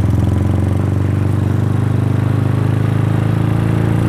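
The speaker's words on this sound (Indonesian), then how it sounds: "Ini gua kasih sedikit video test ride motor Bison Indian Bobber." Yamaha Bison motorcycle customized as an Indian-style bobber, its engine running steadily and loud close by with a continuous low throb and rapid pulsing exhaust beat, no voices over it.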